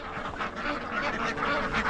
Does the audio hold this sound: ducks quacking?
yes